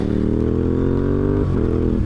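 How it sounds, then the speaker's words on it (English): A parallel-twin motorcycle engine revs loud and steady with a strong rumbling tone, its pitch dipping briefly near the end before holding again, with no talk over it. "I've got this engine that, I mean, it revs out pretty good for a parallel twin."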